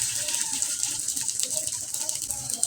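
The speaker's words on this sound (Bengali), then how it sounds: "এখন আমি ভেজে দেখিয়ে দিচ্ছি, আর একটা দিলাম, দেখি তেলটা কীরকম গরম হয়েছে" Semolina (suji) chips frying in hot oil in a home kitchen, a steady dense bubbling hiss with crackles lasting a couple of seconds, close and fairly loud, no talking.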